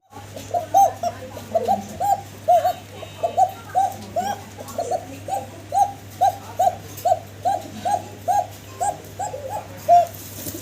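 A male and female pair of domestic pigeons coo in a steady, rhythmic series of about twenty close, moderately loud calls over a low constant hum.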